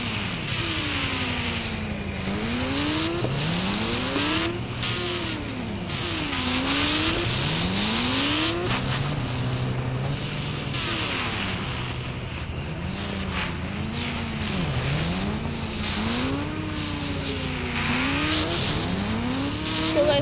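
Motorbike engine from the Indian Bike Driving 3D video game, a continuous synthetic engine drone that repeatedly revs up and drops back as the bike accelerates and shifts, steady and fairly loud with no talking over it.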